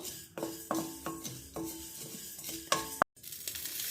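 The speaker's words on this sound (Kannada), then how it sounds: "ಜೀರಿಗೆ ಕಲರ್ ಚೇಂಜ್ ಆಗಬೇಕು ಒಳ್ಳೆ ಆರೋಮ ಬರೋ ತನಕ ಇದನ್ನ ಚೆನ್ನಾಗಿ ಹುರಿದ್ಕೋಬೇಕು" Cumin seeds dry roasting in a pan over medium heat, stirred with repeated scraping strokes in a steady rhythm, light sizzle and crackle under each pass, ending with a sharp clack of the utensil against the pan.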